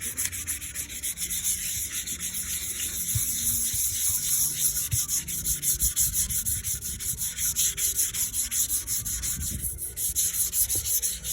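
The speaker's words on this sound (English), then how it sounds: "Today I'm sanding right now with 320." Steady back-and-forth rubbing of 320-grit sandpaper on a tank, a continuous rhythmic rasping close to the listener with no talking.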